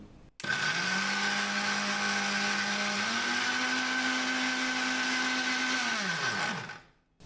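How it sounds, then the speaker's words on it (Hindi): Electric mixer grinder jar pulverising biscuits into powder, a loud steady motor whine that starts abruptly, shifts slightly higher in pitch partway through, then winds down as it is switched off. "मेरे जार में एक बार में सारे बिस्किट नहीं आए हैं, मैं इनको 1 या 2 बार डालकर और पीसूँगी"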